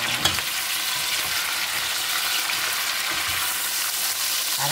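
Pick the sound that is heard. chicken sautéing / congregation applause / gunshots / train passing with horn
chicken sautéing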